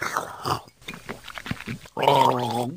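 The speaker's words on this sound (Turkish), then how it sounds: "Evet üstüne üstlük bir de gargara yaptı." A person gargles a sip of wine at close range, with bubbling throat sounds following a stretch of indistinct mumbling and mouth noises.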